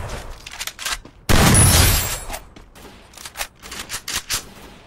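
Gunfire crackles in a battle royale video game fight: scattered close shots, then a dense burst of rapid fire about a second long, followed by more sporadic single shots.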